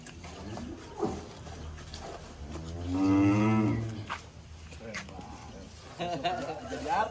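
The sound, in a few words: cattle mooing in a pen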